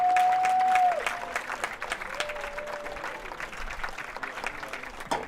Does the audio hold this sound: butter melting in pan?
no